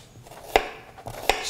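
A knife chopping an onion on a cutting board in a kitchen, two crisp sharp cuts about three quarters of a second apart, close and clear with no talking.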